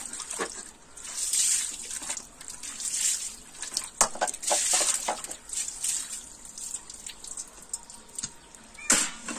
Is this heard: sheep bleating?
no